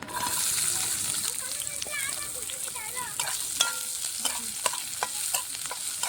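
Chopped onions hit hot mustard oil in a pan, giving a steady bright sizzle with spatula scrapes and stirring clatter throughout, close and continuous.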